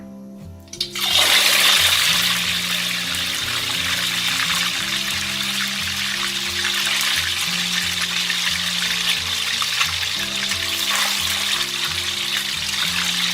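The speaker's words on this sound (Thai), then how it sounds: "ใส่เต้าหู้ลงทอดหลังจากที่น้ำมันร้อนจัดเท่านั้นนะ" A loud sizzle bursts up as tofu hits very hot oil, then settles into a steady, crackling fry with background music underneath.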